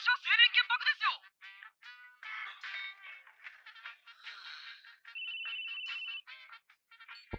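A phone ringtone chirps in an anime episode, a sustained electronic tone lasting about a second amid animated dialogue and chatter.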